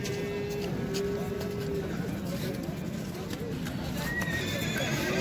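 Foals, including young male Orlov-type colts, neigh and whinny at a busy horse market in Nookat, with hoof clip-clops, birds and a crowd murmuring in the background.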